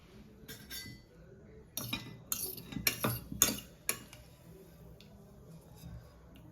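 Paneer pieces frying in a pan for peas paneer pulao, with a low sizzle under a burst of metallic clinks and scrapes from a spoon stirring against the pan, close by.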